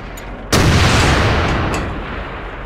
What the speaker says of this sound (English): They got TDs on the hill shooting down at us.